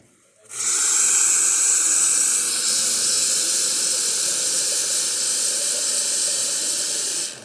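A freshly serviced Lelit Bianca espresso machine hisses steadily as it dispenses hot water, a close, even rush of steam and spray lasting several seconds before stopping.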